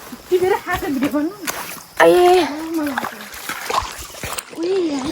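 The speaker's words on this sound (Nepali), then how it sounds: "म पनि यहाँ खोला झरिसकेँ" Feet wading and splashing through a shallow river stream, irregular splashes close by, with children and adults talking over the water.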